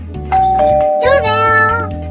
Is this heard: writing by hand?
no